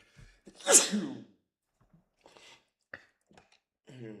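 A single loud, close sneeze bursts out early, followed by quiet mouth sounds and a voice beginning to speak at the end.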